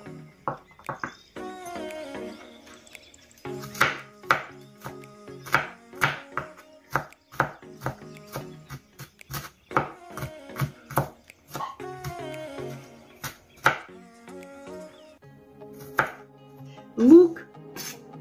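Quick, sharp knife chops on a cutting board in an irregular rhythm, close and clear, with a few soft sliding sounds between strokes.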